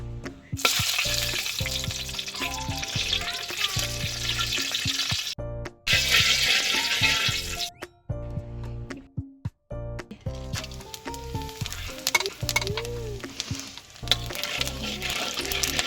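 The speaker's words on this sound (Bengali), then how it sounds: "ফোড়ন দিয়ে দিয়েছি, এবার মাংসটা কষতে দিয়ে দেবো।" Whole spices crackle and sizzle loudly in hot oil and ghee in a golden kadai while garlic mutton is prepared, with continuous frying hiss broken by brief pauses and clinks, and background music running throughout.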